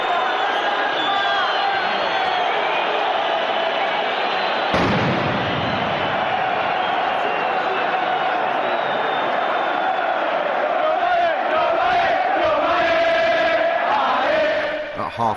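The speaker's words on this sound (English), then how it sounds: "After the goal, there was more crowd trouble." Football crowd trouble at a Lazio-Roma derby in the stadium, a loud, dense roar of chanting fans with sharp bangs like firecrackers or flares, and a sudden burst of louder noise partway through.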